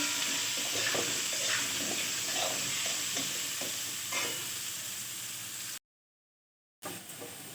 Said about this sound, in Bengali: একটুখানি হলুদ দিয়ে দিয়ে আমি ভেজে নিচ্ছি